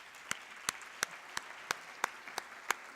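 An audience claps at a tech pitch event, with sparse single claps at a steady, even pace, fairly faint and without other sound.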